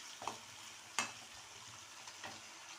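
Food frying in a pan, a faint steady sizzle broken by a few sharp clinks and scrapes of stirring, quiet and close with no talking.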